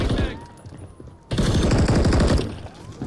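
Loud, close automatic gunfire in Call of Duty: Modern Warfare III, a rapid stream of shots that stops briefly and then comes back just as hard, alone without voices.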